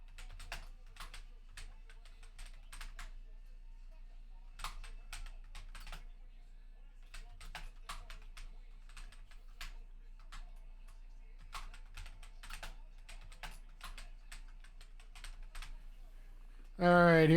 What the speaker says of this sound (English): Just typing up the first prediction here for you guys.